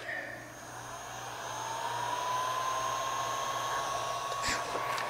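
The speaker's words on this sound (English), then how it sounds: "now I take the heat gun and I'm going to heat it up on a lower setting" A heat gun on a low setting warms rubber for a kayak deck pad, giving a steady close blowing whoosh with a faint rising whine that holds throughout.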